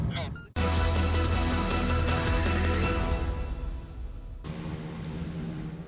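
An aircraft lands at a military airfield in Boryspil, Ukraine. A loud, droning engine roar with humming tones rises sharply after a brief opening sound and then fades down to a quieter, steadier hum.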